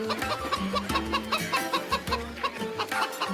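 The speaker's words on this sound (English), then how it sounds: "Or maybe a live chicken?" Live chicken clucking busily and continuously, rapid repeated clucks from a close bird alongside low tonal background sounds for a few seconds.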